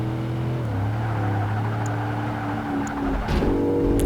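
Mercedes SL55 AMG engine in the racing game Project Gotham Racing 2 on the short Yokohama track, a steady, loud droning engine note with a gear shift and brief rising rev near the end, heard alone without talk.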